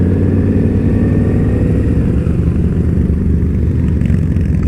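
A motorcycle rides through city streets at night, its mid-pitched engine droning loud and steady throughout, close to the listener.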